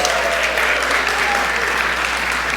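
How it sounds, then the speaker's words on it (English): At a land conservation conference plenary session, a large audience gives loud, continuous applause, a thick, even roar of clapping that holds steady throughout. "Hold your applause, please"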